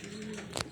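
Soft, brief cooing of racing pigeons returning to their loft, a low murmur close by.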